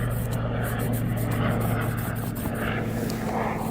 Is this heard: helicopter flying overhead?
yes